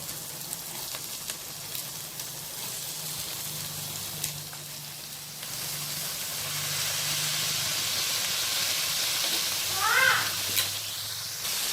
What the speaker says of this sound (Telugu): మనము కట్ చేసి పెట్టుకున్న ఈ సొరకాయ ముక్కల్ని ఇందులో వేసేసుకుందాము